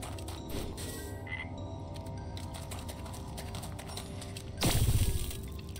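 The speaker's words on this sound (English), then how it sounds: "It's always a good idea to get a frog when it's available." Frog croaking in the video game Wytchwood, a dense rattling croak that runs steadily throughout and swells louder near the end, heard close with no talk over it.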